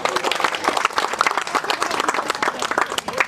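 Dense, sustained applause from an audience at a Shiva puja welcoming ceremony in a village, many hands clapping loudly and continuously throughout.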